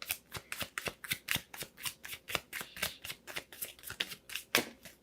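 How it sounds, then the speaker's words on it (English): Tarot deck being shuffled and cards drawn during a love reading, a steady run of quick crisp riffling snaps and card flicks, close and fairly quiet, with one sharper slap near the end and no talking. "Let me just pull one more card, okay?"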